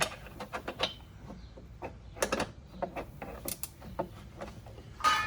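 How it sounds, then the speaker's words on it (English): A 13mm wrench turning a bolt while fitting a roof-mounted speaker on a CFMOTO ZForce or UForce side-by-side, giving a series of close, quick metallic ratcheting clicks and taps in irregular bursts with no speech. "Now, you're going to want your 13mm wrench to go up in here in the top."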